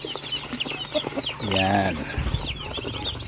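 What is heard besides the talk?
Rhode Island Red chickens clucking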